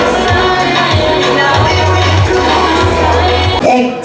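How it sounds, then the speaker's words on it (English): An awards ceremony crowd cheers and claps, with whoops and shouts rising from the audience in a loud, dense wash that carries on without a break. "Let's give them a round of applause."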